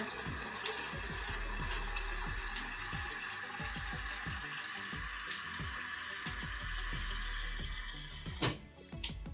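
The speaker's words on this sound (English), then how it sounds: "I'm just going to fill it up with water" Water pours steadily into a large mug, a continuous splashing rush with faint knocks and clatter underneath, ending with a brief louder splash.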